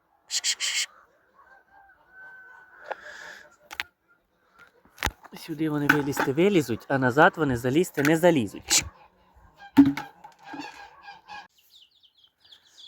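Ducks quack in a backyard in short bursts close by, mixed with someone talking over them.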